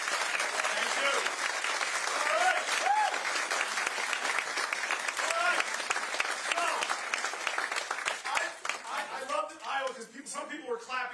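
Clapping from guests at a New Year's Eve house party, fairly close and lively, with voices talking over and around it as the clapping thins out toward the end.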